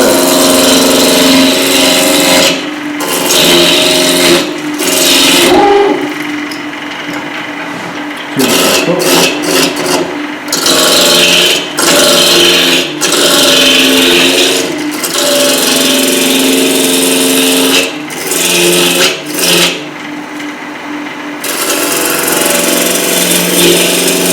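A roughing gouge cutting spinning wood on a lathe, a loud, continuous rasping scrape with a motor hum beneath, broken by several brief pauses as the tool lifts off and returns to the workpiece.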